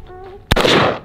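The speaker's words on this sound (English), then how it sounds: "you can take one shot at the cardboard and then you got one shot up top" A single loud gunshot cracks out at a cardboard target during an off-road shooting outing, a sharp close blast with a lingering rumble that decays over about half a second after faint background tones.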